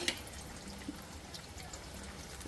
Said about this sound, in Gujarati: એના ઉપર આપણે આ હળદર ને મીઠાનું પાણી